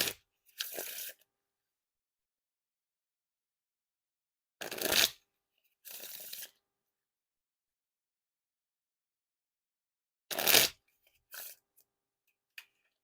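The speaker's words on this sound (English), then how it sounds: "And now time for the riffle shuffle or bridge shuffle." A deck of Fulton's October v3 playing cards by Dan and Dave riffled in separate bursts, each a short crisp flutter, with long silent pauses between the shuffles.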